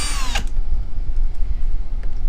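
A power tool whirs loudly and continuously while unbolting screws on a sailing boat, with a brief high whine at the start and steady close-up buzzing throughout, no talk.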